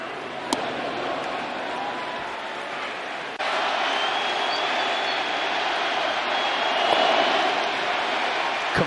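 Red Sox and Yankees fans at a Fenway Park baseball game cheer in a dense, continuous roar of crowd noise that holds steady and swells slightly louder partway through, with no clear individual voices standing out.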